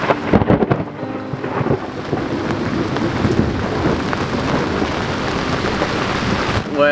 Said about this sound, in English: there's quite a lot of storms around here at the moment